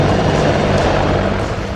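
Apache military helicopters in flight, a loud continuous rotor and engine roar with a throbbing low end, close and steady, no speech.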